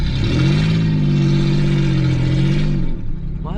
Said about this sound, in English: Give him a little rev.